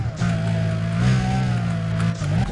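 A tuned car with an upgraded engine, replaced exhaust, new wheels and a lightened body in the racing game Need for Speed: Undercover drones steadily at high revs, its engine tone rising and falling slightly throughout.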